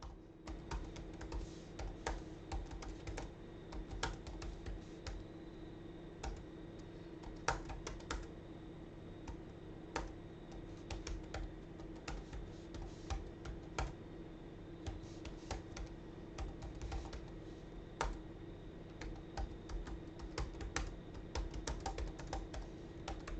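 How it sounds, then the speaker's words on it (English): Soft-sounding computer keyboard typed on at a steady, close pace: a continuous stream of muted key clicks with occasional louder strikes over a faint low hum, no voices. "So let's play around with his keyboard,"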